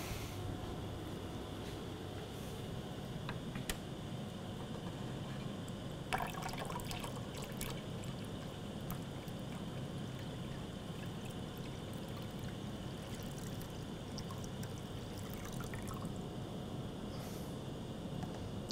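Water is poured into a slake durability test apparatus, a steady, faint liquid trickle and pour lasting throughout, with occasional small drips and clinks and no speech.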